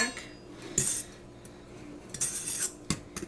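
A fork clinks sharply against a bowl while cupcake batter is mixed, with a few separate bright taps spread over a few seconds in a quiet kitchen.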